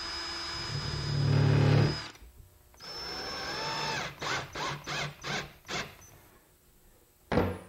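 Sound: tightening screw on cabinet magnetic catch strike plate

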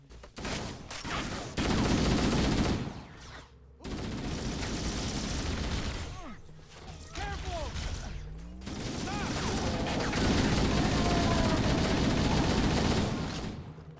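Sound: gunfire in the video game Halo: Combat Evolved

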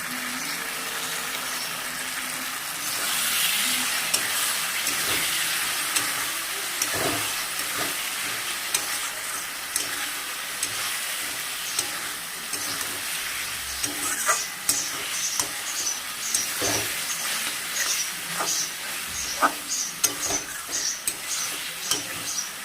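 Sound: sautéing fish head curry with chilli powder

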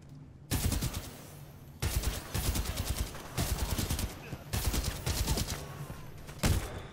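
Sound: gunfire in the video game Titanfall 2

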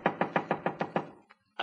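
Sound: knocking on a door

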